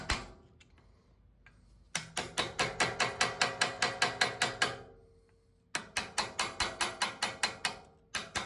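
A wood chisel is worked between a part and the column of a Sanford surface grinder, giving two close bursts of rapid, evenly spaced sharp metallic taps, about a dozen in each run, with quiet gaps between.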